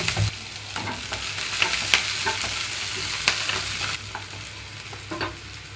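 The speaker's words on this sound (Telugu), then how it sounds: "కట్ చేసి పెట్టుకున్న ఉల్లిపాయలు పచ్చిమిరపకాయలు అలాగే రెండు రెమ్మల కరివేపాకు కూడా వేసుకుంటున్నాను" Onions, green chillies and curry leaves fry in hot oil for a capsicum mushroom curry, giving a steady close sizzle broken by repeated scraping stirs of a spoon, with no voices.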